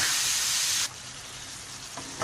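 Tomatoes fry in a pan for chicken chana dal: a loud, bright sizzle runs for under a second, then drops abruptly to a softer, steady hiss, with a faint clink near the end.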